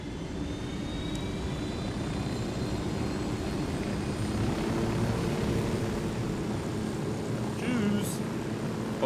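Helicopter lifting off in the video game Ghost Recon Wildlands, a steady loud engine and rotor drone filling the whole stretch without a break.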